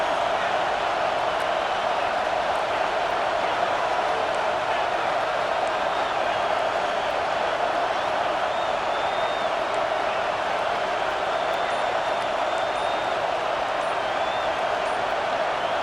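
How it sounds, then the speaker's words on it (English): A huge stadium crowd in a college football video game roars continuously on a third down, a dense sustained wall of cheering and shouting with occasional whoops rising above it. "Listen to this crowd just shaking the girders of this place, trying to help their defense."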